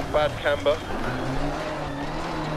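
Opel Manta 400 rally car in DiRT Rally sliding and nearly spinning out on a gravel stage, steady engine drone with tire scrub under a co-driver's brief spoken call at the start.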